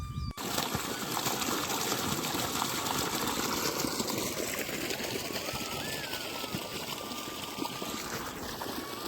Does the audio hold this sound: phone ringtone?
no